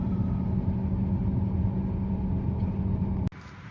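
Tractor towing a Bunning silage trailer on a maize harvest day, pulling away through a field gateway, a steady mid-pitched engine rumble that carries on evenly before cutting off abruptly near the end.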